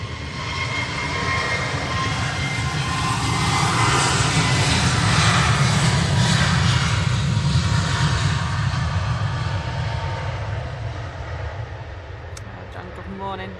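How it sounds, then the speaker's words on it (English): A Jet2 Airbus A321neo departs Manchester Airport with a broad, steady jet roar that swells to a peak midway and slowly fades, heard continuously from a distance outdoors. "we do have this Jet2 A321neo going out now"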